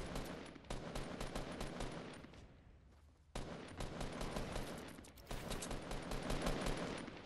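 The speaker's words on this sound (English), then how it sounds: "Shit, we're getting shot." Rapid automatic gunfire in a Fortnite squad match rattles in dense, loud bursts, cutting out briefly twice before resuming hard, with no voices.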